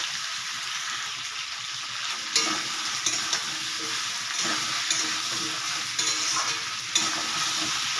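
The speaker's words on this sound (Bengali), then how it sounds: "ছোলা কচু আর আলু দিয়ে এগুলোকে আমি ভালো করে কষিয়ে নেব।" Taro and potatoes frying in a pan with oil and spices, a constant close sizzle broken by several sharp scrapes and clatters of a spatula stirring, without any speech.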